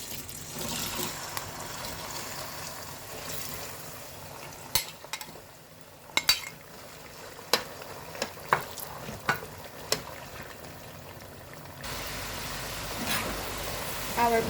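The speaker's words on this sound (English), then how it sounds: "In our preheated oil, let's fry our potato." Potatoes frying in preheated oil, a steady soft sizzle with a series of sharp clinks and taps from stirring.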